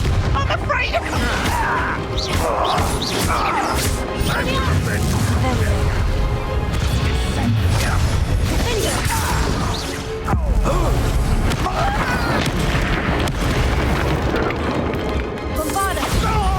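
Spell blasts from the Bombarda explosion spell in Hogwarts Legacy go off during the Ranrok final boss fight, loud booms and crashes layered over dense battle noise and continuous game clamour, with voices talking throughout.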